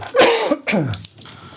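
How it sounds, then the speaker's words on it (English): A single person coughs twice up close, a loud harsh burst followed by a second shorter cough, then quiet. "I'm going to cough"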